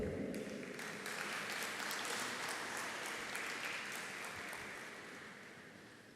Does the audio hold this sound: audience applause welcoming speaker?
yes